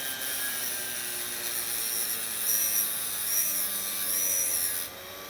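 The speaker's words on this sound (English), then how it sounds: "Listen to that motor rev. When it starts to slow down, ease off your pressure." A rotary tool motor whines steadily at high speed while cutting a hacksaw blade into lockpicks, a sustained close grinding hiss that holds level before dropping off near the end.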